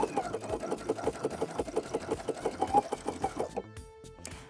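A sewing machine with a twin needle stitches down the edge of fold over elastic, giving a steady, fast mechanical chatter close by, then stopping abruptly near the end.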